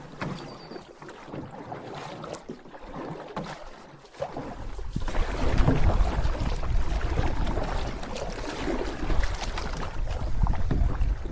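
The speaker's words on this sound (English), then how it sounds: "Very windy so far." Wind gusts buffet the microphone on a backcountry canoe trip across an Algonquin lake, a rough low roar that swells louder midway and stays strong, with water sloshing beneath it.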